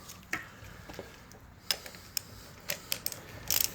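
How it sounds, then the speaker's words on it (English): A big extended-handle 3/8 ratchet works on a snug suspension part of a 2008 vehicle, giving scattered sharp clicks and ticks close up, irregular and fairly quiet, ending in a short burst of quick clicks. "I'm just going to be using a big extended handle ratchet."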